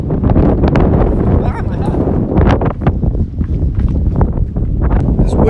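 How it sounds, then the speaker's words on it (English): Strong outdoor wind buffeting the microphone in the seaside town of Termoli, Italy, a loud continuous rumble with gusty swells throughout, with someone talking over it. "This wind is crazy."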